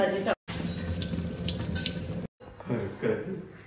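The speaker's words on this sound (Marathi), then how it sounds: "मी आधी ही पानं धुवून घेते." Leaves are rinsed under a running kitchen tap, the water splashing and gushing steadily with two brief cut-offs, while someone talks over the sound.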